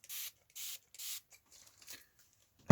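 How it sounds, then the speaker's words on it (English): A fine-mist sprayer of diluted glue is puffed onto model railway ballast in three short, even hissing bursts, followed by a few softer sputters and a sharp knock at the end. "I'm just going to spray nice and gently. This has got a nice spray on it, very fine misting."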